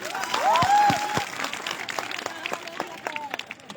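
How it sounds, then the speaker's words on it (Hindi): A crowd at a stadium gathering in Ramgarh claps in a loose burst, strongest early and then thinning to scattered claps, moderately distant with some background voices. "एक बार फिर से जोरदार ताली इनके लिए।"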